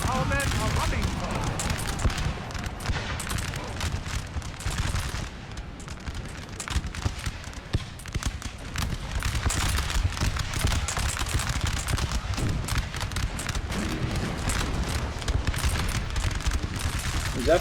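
Musket volleys and cannon fire crackle and boom in a Napoleon: Total War battle, a dense, continuous crossfire of overlapping shots and heavier blasts that never lets up.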